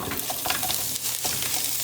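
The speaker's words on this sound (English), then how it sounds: "green onion, and stir right? Stir fry." Green onion stir-fried in a hot pan for a Chinese tomato and egg dish, a steady close sizzle with quick scraping stirs of the spatula running throughout.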